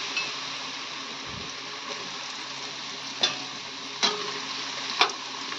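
French fries fry in a pan of hot oil with a steady, even sizzle, punctuated by a few sharp ticks and pops near the end, close and moderately loud.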